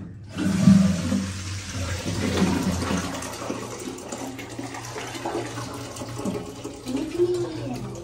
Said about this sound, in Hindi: ये जो फ्लश टैंकी बहुत अच्छी है